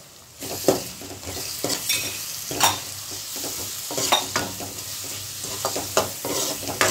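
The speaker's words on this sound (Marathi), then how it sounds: "कांदा, लसूण, टमाटा चांगलं फ्राय करून घ्यायचं" Onion, garlic and tomato fry in a pan under a constant sizzle, while a utensil stirs and scrapes in irregular clacks close by, with no voices.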